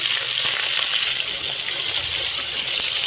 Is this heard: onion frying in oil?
yes